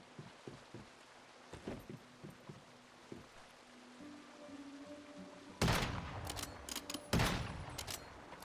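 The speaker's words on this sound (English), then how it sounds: "Where's this person shooting at me from?" Gunfire in the video game Once Human: sparse faint shots at first, then loud close bursts of rapid fire toward the end.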